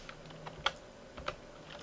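Keys clack on a computer keyboard while code is typed, a few close, sharp taps at an uneven pace over a quiet background hiss.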